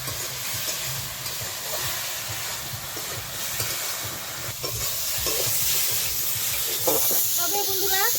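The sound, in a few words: frying spices and vegetables in a pan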